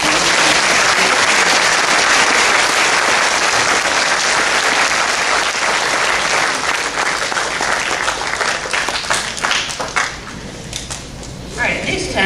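An elementary school graduation audience applauds loudly and continuously for the students, the dense clapping gradually thinning toward the end, with scattered voices underneath.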